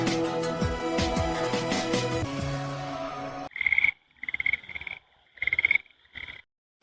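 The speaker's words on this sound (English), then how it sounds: "Frog. Croak, croak." A frog croaks in four loud, rhythmic bursts separated by short silences, following a bright, ringing tonal sound that opens the clip.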